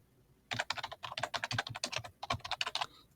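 Computer keyboard typed in a quick burst of about twenty close, crisp keystrokes, with a short pause midway, in a quiet room.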